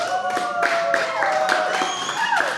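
An audience claps at a Kenyan stand-up comedy show, with sparse, loosely rhythmic claps from a modest crowd. A sustained voice or tone carries over the clapping throughout.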